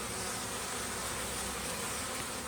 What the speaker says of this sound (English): it doesn't look like all these bees that are here are coming in with nectar and pollen